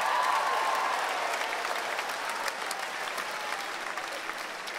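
An audience at a school house music competition gives sustained, steady applause, a dense wash of clapping that fades slightly over several seconds.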